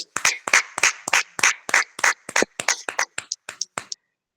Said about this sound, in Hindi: हम सभी आज के प्रीचर ऑफ द डे को हम जोरदार तालियों के साथ और एक चीयरफुल एंड वार्मफुल वेलकम देते हैं